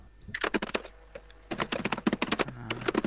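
Fast, rapid typing on a computer keyboard, a dense run of close key clicks in quick bursts with a brief pause midway, loud and clear with no talk.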